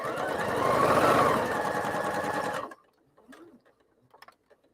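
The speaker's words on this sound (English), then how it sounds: "And then sew straight down 1/4 inch." A sewing machine stitches quilt half-square triangles in a steady, fast whirring run lasting over two seconds, then stops and leaves faint clicks and handling noises.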